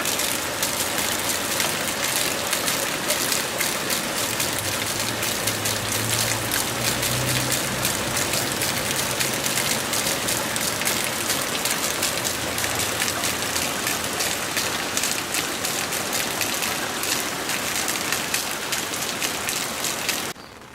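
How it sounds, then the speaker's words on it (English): Steady light rain patters continuously on garden surfaces on a cold, damp spring day, a soft even hiss with scattered drops, lasting throughout with no voices. "think it's raining a little bit."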